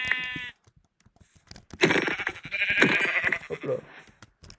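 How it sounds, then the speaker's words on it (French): Sheep bleating in the Minecraft video game, a short harmonic bleat at the start followed by a louder, longer bleating burst, clear and close with no talk. "il y a plein de moutons"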